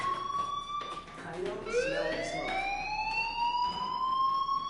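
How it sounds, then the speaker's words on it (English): A wailing alarm in a PS4 video game sweeps up in pitch and holds steady, continuous and fairly loud, with game sounds and a voice talking over it. "do you hear that fire alarm?"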